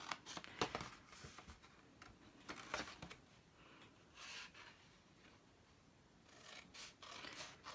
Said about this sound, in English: just cut up to your score line